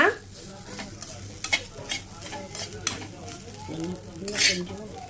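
Chana dal and urad dal sautéed in a little oil for chutney, steady frying sizzle with repeated clacking and scraping stirs of a spoon against the pan, fairly close.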